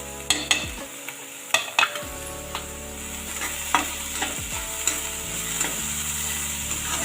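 Chopped green chilli and capsicum fry in a pan with a steady close sizzle, broken by a few sharp clinks and scrapes of stirring. No voices.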